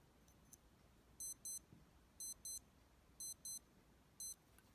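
A Casio DW-5600C digital watch alarm goes off as a faint, thin electronic beeper, sounding in four evenly spaced double-beep bursts against a quiet room background.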